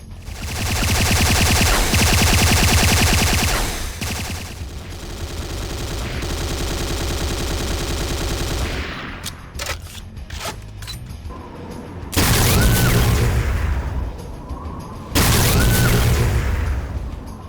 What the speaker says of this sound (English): I still remember the iconic laser fire sounds or the charging sound of the personal ion cannon